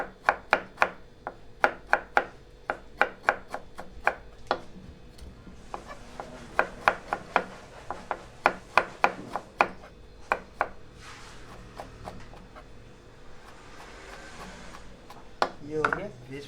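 A knife chops carrots and cauliflower on a board in a hotel kitchen, a run of crisp, rapid, near strikes in uneven bursts with gaps of softer rubbing and scraping, and someone talking through part of it.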